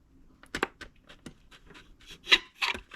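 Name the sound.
poking drainage holes in the bottom of plastic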